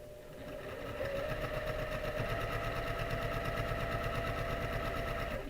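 Sewing machine stitching foundation-pieced quilt block seams, a rapid steady mechanical chatter that starts up and runs loud and close without talk.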